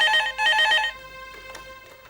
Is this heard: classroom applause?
no